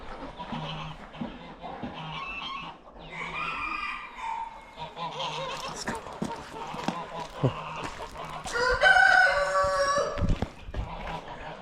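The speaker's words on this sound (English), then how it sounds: "Look at you, big, beautiful rooster." A rooster crows loudly nearby amid other poultry clucking and honking, with a person talking in between.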